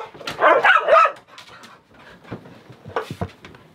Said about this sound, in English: You're upsetting all the dogs.